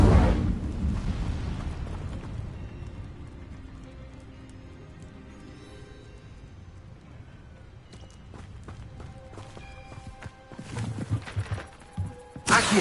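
The Incendio fire spell goes off in Hogwarts Legacy with a loud burst of roaring flame at the start. A sustained fiery rumble follows, then a second blast swells near the end.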